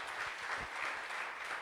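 A church congregation claps briefly and softly, a distant patter of hands that fills the moment.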